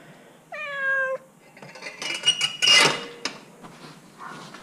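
A cat gives one clear, fairly close meow early on, followed by clattering and rustling handling sounds in a quiet garage.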